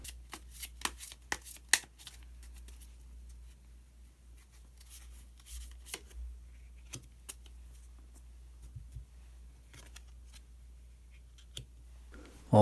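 Tarot cards being shuffled and drawn from the deck give a run of quick, close, soft flicks and slaps, clustered early and then scattered taps in a quiet room.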